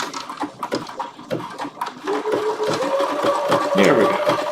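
A Bernina sewing machine sews an appliqué blanket stitch on wool in a live workshop, giving an uneven, close mechanical whir that picks up and steadies partway through while people talk over it.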